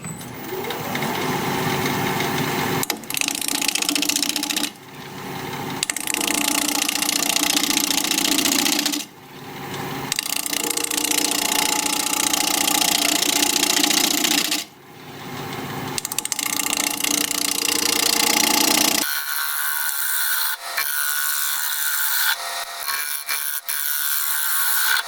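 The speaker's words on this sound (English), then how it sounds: "We're going to be turning at just under 900 RPM, 1/2-inch bowl gouge" Wood lathe spinning a cracked acacia live-edge bowl at just under 900 RPM while a half-inch bowl gouge cuts, a continuous scraping hiss broken by several brief pauses, then a quieter, thinner cutting sound.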